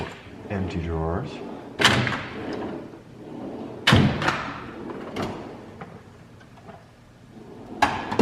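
Several tool chest drawers slide and bump shut one after another, each a short rolling rush ending in a thud, with a person talking between them.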